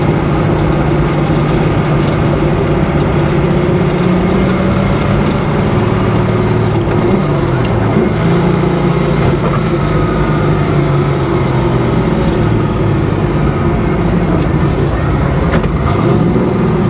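A 1971 Chevy Nova with low oil pressure driving on the road, giving a continuous loud rumbling engine and road drone with steady low hum throughout.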